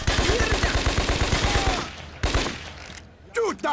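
Rapid automatic gunfire in the Scarface video game: a sustained, evenly spaced burst of shots that cuts off, then a single loud blast and a short final burst, with faint voices.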